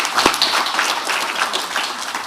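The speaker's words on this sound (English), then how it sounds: "The applause, I think, speak for themselves" Audience applause at a conference on Ireland and the EU, a dense, loud and steady wash of many hands clapping close by, with no talking over it.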